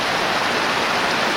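Hot spring water in Alaska runs down toward a river, a steady, close rush of flowing water with a broad, even hiss and no voices.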